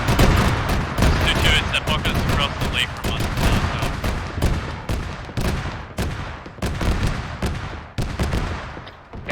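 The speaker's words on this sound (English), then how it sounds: "Is that BTR across the lake firing an auto cannon?" Rapid, heavy bursts of gunfire and autocannon fire crack continuously in an ArmA 3 infantry battle, including a BTR firing across a lake, with a player speaking over the barrage.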